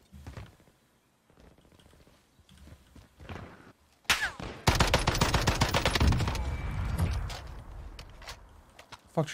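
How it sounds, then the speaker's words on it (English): Gunfire in the video game Call of Duty Warzone: quiet scattered game sounds first, then a sudden loud burst of rapid automatic shots with sharp cracks that keeps rattling for several seconds before tailing off. "you shot at me"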